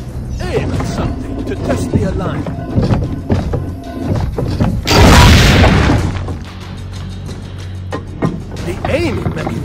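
A cannon fires once in Assassin's Creed Brotherhood during an alignment test, a loud, booming blast that rumbles for about a second amid character dialogue and ambient noise.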